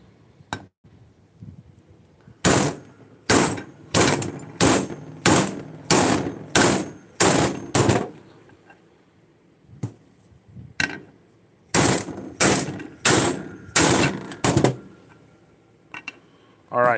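A hammer drives a bushing into place with a bushing driver, giving sharp metallic blows in two bursts, about eight steady strikes and then five more, with quiet pauses between them.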